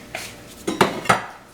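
A spoon stirs corned beef and potatoes in a hot pot, giving a few scattered metallic clinks and scrapes against the pot.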